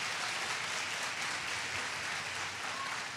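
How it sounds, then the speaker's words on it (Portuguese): Steady, dense applause from a large church congregation cheering for Jesus, a continuous wash of clapping at even volume with no talk over it. "dá um forte aplauso para Jesus, porque Ele merece"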